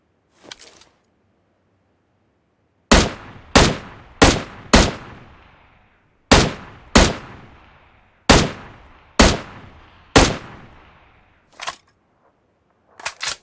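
Single sharp shots from an M762 assault rifle with a 2x scope and extended magazine, in a mobile shooter: about ten loud cracks spaced irregularly, each with a short decaying tail, separated by silence.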